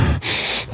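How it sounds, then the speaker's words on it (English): A woman breathes close into a microphone: a sharp inhale or gasp, then a long airy exhale that runs most of the moment and tails off with another breath, loud and near. "I can hear her breathing because I'm monitoring audio."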